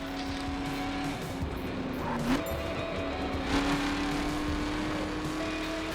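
A car drives in the video game The Crew, with a steady engine drone, occasional tire noise and faint passing swells at moderate volume and no speech.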